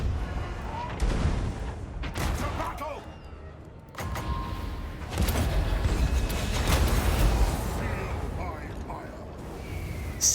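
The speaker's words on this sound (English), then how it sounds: "Gelt is really getting it fed to him by these Hell Cannons." Hell Cannons pound away in a Total War: Warhammer 2 battle, heavy booming artillery blasts and crashing impacts rolling through a dense, loud battlefield din, with someone talking over much of it.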